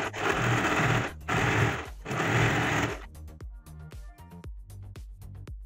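An electric sewing machine stitches a bias-cut canvas strip onto a lehenga: three fast runs of dense motor whirring, then a looser series of separate needle clacks as the stitching slows.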